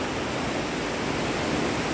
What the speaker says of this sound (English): the rippling sound, gushing sound, flowing sound, all different sounds of water.